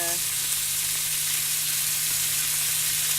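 Sauce for chicken parmesan sizzles in a very hot pan with some olive oil left in it, a steady close hiss and crackle that runs throughout after a short tone at the start.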